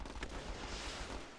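A bazooka fires in the strategy game Battle Islands: Commanders, a sharp explosive burst followed by rumbling booms that roll on for about a second.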